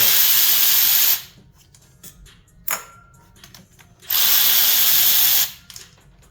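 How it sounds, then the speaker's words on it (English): A 3/8 ratchet and socket work spark plugs loose from a Saab 9-3 2.0L engine, heard as close, loud bursts of rapid ratcheting, one long run, a brief click midway, then another sustained run, with quiet pauses between. "I'm using a 3/8 ratchet, and 3/8 socket, and we're gonna get these up and out."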